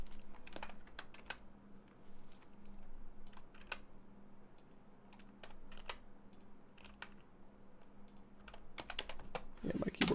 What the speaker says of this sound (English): I think my keyboard's freaking out because I spilled water on it this morning.